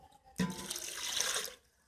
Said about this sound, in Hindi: अब इसके अंदर आप 2 गिलास पानी ऐड करेंगे